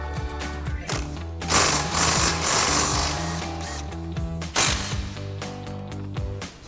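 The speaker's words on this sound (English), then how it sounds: "And we'll remove our caliper slider bolts." Pneumatic impact wrench rattling out the front brake caliper slider bolts on a 2005-2009 Ford Mustang GT, loud rapid hammering bursts in two main runs with brief pauses between, close up in a garage.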